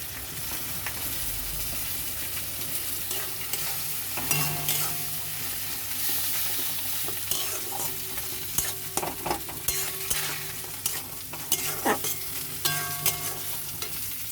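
Turmeric and chili powder masala frying in a pan for a Bengali fish-and-potato curry, with steady sizzling under repeated scraping stirs and soft clinks of the spatula, no talk.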